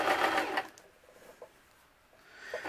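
A sewing machine runs in a quick burst while stitching a Viking-style fabric hood, a close, loud mechanical whir that stops, followed by faint handling clicks and a brief restart.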